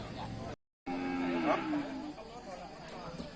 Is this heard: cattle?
yes